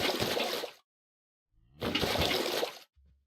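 Water buckets being filled in Minecraft survival mode, heard as two short, bright whooshing splashes close up, separated by silence.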